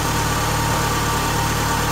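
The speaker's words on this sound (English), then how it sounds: "start the car. Let it idle for a good 15-20 seconds." 2012–2020 Ford Focus ST engine idling after an oil change with 5W30, a steady, close, even hum with a low constant vibration throughout.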